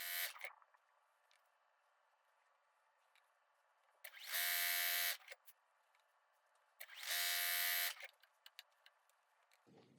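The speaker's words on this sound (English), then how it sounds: "I'm just grabbing my strips and sewing them together" Sewing machine stitching fabric quilt strips together, two loud whirring bursts of about a second each, separated by quiet handling noises, close.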